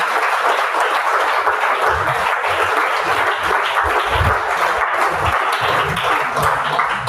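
A church congregation applauds the Lord during a worship service, steady broad clapping that fills the whole stretch without pause, loud and close with a dense crowd texture.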